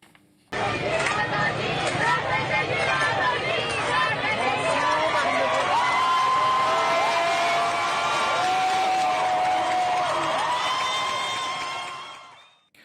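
A large protest crowd chanting "woman, life, freedom" loudly and in unison, voices rising and falling in a repeated slogan rhythm, dense and near, with shouts mixed in.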